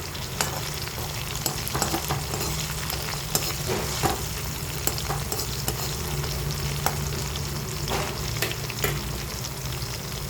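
Sliced onions fry in a pan with a steady close sizzle and crackle, punctuated by occasional sharp taps and stirring scrapes, no voices.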